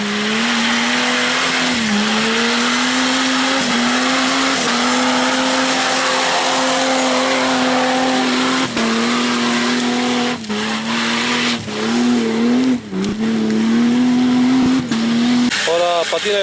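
A 4x4 off-road vehicle climbs a steep quarry track with its engine revving hard and steady, pitch wavering as the wheels slip and the clutch slips, loud and close throughout, with sharp knocks and scrapes toward the end.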